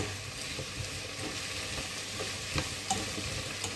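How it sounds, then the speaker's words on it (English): Clams with potatoes and peas stirred in a pan, a continuous close sizzle broken by light spoon scrapes and a couple of small knocks near the end, with no voices. "Let's give it a stir"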